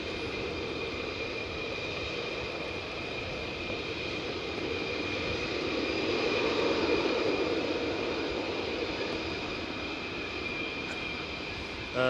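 Military fighter jets, F-15s, F-16s or F-35s, flying at RAF Lakenheath, giving a steady loud roar that swells slightly mid-way and holds for about twelve seconds with no talk.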